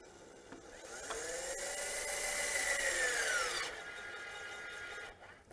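A Norbar EvoTorque 2 electric torque tool tightens a bolt with a continuous motorized whir whose pitch slowly rises, then settles. It ends with a softer run-down and a brief click, close and moderate in level.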